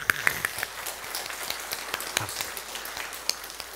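Scattered, fairly quiet clapping from a church congregation during a Sunday service at Daejeon Haneulbit Church, with sparse, uneven claps rather than a full ovation.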